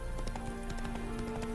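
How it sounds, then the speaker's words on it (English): Horse hooves clop in a quick, uneven rhythm in The Witcher 3, the repeated hoofbeats sitting close over a steady low ambient hum. "Spooking my horse."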